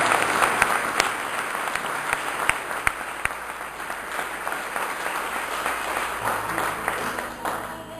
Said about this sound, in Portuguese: Dê um aplauso ao Senhor, por causa dessa verdade.